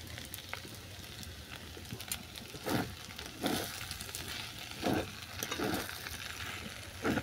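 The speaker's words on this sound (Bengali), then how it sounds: "আবার এটা ভালো করে মিশিয়ে নিলাম।" Chicken semai noodles being stirred with vinegar, soy sauce and Maggi seasoning in a pan, giving a steady soft sizzle with several louder scraping stirs at intervals, close by and with no talk.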